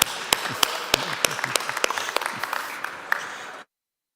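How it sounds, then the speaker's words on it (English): An awards festival crowd at an architecture event applauds, with scattered crisp close claps over a steady clapping bed that fades away and then stops abruptly into silence. "big round of applause for you"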